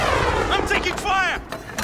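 Gunfire in Call of Duty Warzone, with a few sharp game gunshots and incoming fire cracking over busy game audio. A player talks over the shots.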